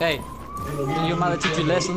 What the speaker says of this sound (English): That's the ambulance they're sending with him.